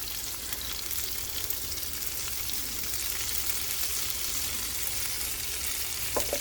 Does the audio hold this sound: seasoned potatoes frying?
yes